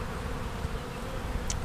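A swarm of honeybees gives a steady, low buzzing drone, fairly close and continuous, with no talking.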